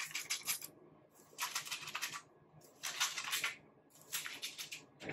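Wet curly hair scrunched by hand during a styling routine, giving soft rhythmic crackling, squishing bursts in four close repeated pulses, fairly quiet and with no voices.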